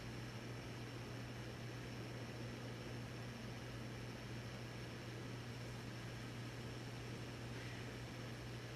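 A 1986 Hunter 52-inch low-profile ceiling fan runs at medium speed with a slight wobble, giving a faint, steady whirring hum with a low drone throughout, alone and without talk.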